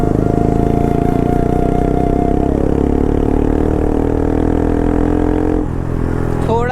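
A Bajaj Pulsar RS200 motorcycle is ridden at night, its raw exhaust droning loud and close with a steady engine note that shifts pitch near the end, over wind noise.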